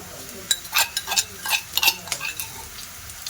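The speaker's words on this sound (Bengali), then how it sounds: "এবার আমি ওর মধ্যে আদা রসুন বাটা দিয়ে দেব" Ginger-garlic paste is stirred into lightly browned onions frying in oil in a pan. A spatula scrapes and clinks in an uneven rhythm over a soft, steady sizzle, close and fairly clear.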